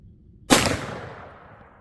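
A single loud, close shot from a Rossi Tuffy .410 shotgun cracks sharply after a brief quiet moment, then rings out in a fading tail.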